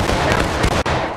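Musket volley fire in War of Rights, a dense, loud crackling burst of many overlapping shots lasting about a second, rolling together without a pause.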